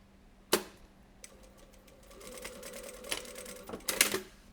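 A sewing machine tacks straps onto a DIY face mask made from sterilization wrap, with a sharp click, then a short, fast mechanical stitching burst, close up, ending in a few louder clunks.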